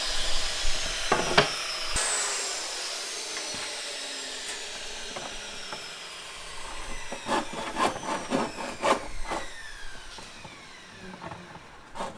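A handsaw cutting through a wooden board for a butcher block table top, steady scraping strokes at close range, with a few sharper rasps toward the end and no talking.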